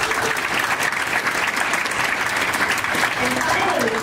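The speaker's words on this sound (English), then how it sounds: "Let's get a round of applause." Steady applause fills a school board meeting room, dense and sustained clapping from an audience throughout, with faint voices underneath.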